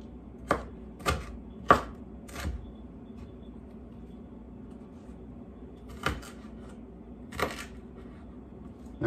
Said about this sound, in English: you want to chop these pretty finely